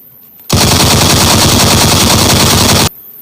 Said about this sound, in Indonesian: Wow, yellow shooting blaster gun.